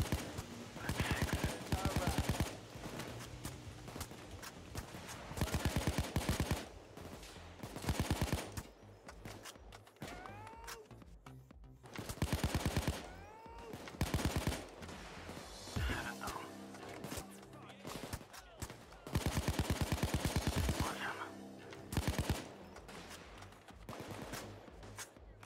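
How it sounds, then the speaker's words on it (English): Gunfire during a bank robbery in a video game, repeated rapid bursts of automatic shots in clusters across the clip, fairly close and harsh, with voices talking between the volleys. "Who do you think you're shooting at, mate?"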